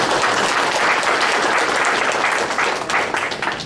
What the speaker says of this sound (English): I'd like to recognize them with a round of applause